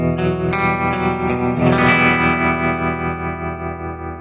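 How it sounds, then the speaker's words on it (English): Electric guitar chords played through a TC Electronic Nova System reverb bloom into a loud, sustained wash, with a new strum around the middle and a slow tail fading at the end. "Reverbs, of course."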